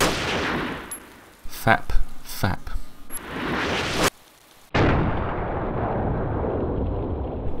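Longhorn rifle firing in a zombie survival shooter, loud, sharp shots with rolling echoes, a couple of reports close together, then a brief silence and a lingering outdoor ambience.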